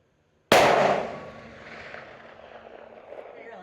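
A single sharp, loud report from a CVA Endura Pro muzzleloader fired at a 600-yard target outdoors, bursting suddenly after brief silence and then decaying into a long rolling echo.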